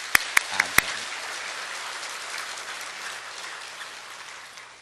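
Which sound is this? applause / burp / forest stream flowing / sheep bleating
applause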